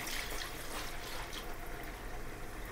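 Water pours in a steady, close rushing stream, unbroken for the whole stretch, with no voices.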